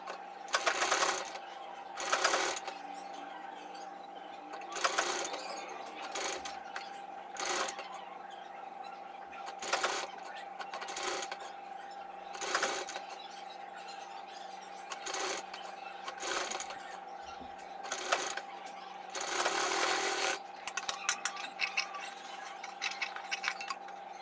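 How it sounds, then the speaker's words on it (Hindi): A sewing machine stitching buckram onto a suit neckline in short repeated runs of whirring, with clicking pauses between bursts and a constant hum underneath, close and moderately loud. "अगर आप बुकरम यूज कर रहे हैं तो इसको सिलाई से लगा"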